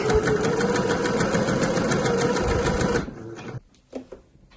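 A sewing machine runs fast and steady stitching a kid's tote bag seam, a loud whirring hum that stops abruptly after about three seconds, followed by a few faint clicks.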